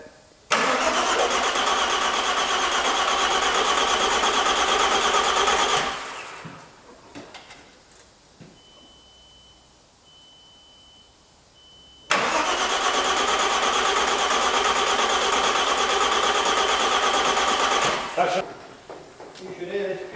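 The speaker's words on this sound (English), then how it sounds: "First rotation of the engine since Boxing Day." A Suzuki engine turning over for the first time after a refit and engine swap, out of gear. It makes two loud, steady cranking bursts of about six seconds each, separated by a quiet pause with faint movement, and a voice speaks briefly near the end.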